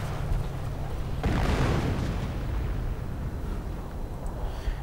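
Howitzer rounds exploding in a strategy video game: a sharp blast lands amid a continuous rumbling din of battle, followed by rolling low-end roar, loud with no voices.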